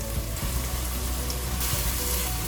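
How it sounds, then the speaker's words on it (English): Chopped onions and ginger garlic paste fry in a pan with a steady, close, dense sizzle and crackle throughout. "We will cook everything well until the onions become soft."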